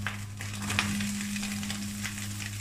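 Beans and carrots stir-frying in a pan, giving a soft steady sizzle with light scraping of stirring over a constant low hum, with no talking.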